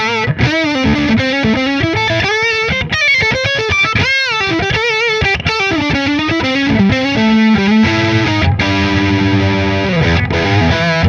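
Heavily distorted electric guitar through a Mesa/Boogie Mark V tube amp on Channel 2 Mark I mode, playing a fast riff with sustained chords and lead notes, loud and saturated throughout, no voices.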